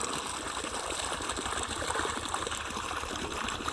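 Water gushes steadily from the pipeline of an Alpex solar pump, 400 feet from the pump, in the morning: a constant, dense rushing splash with no pauses and no voices.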